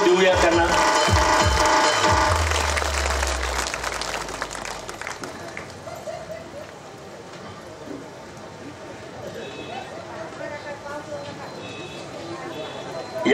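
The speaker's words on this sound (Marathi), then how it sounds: "वाढदिवसाचा आशीर्वाद आपण सगळेजण टाळ्या वाजवून देऊया त्यांना." Audience clapping together as a birthday blessing at a public gathering, a dense loud wash of applause that swells early, then fades to a lighter scattered patter, with a voice speaking over it.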